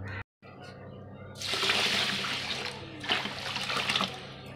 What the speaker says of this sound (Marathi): आता यात आपलं बुडतं पाणी टाकायचं आहे